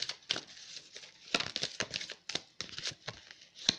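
Crisp crackling and rustling as paper is crumpled and handled, in irregular bursts at close range.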